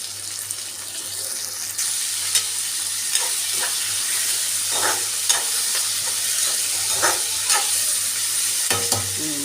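Dried fish sautéing in a pan for karuvadu kuzhambu, with a continuous sizzle and irregular stirring scrapes and clatters close by, plus a brief burst of running water near the end and no talking.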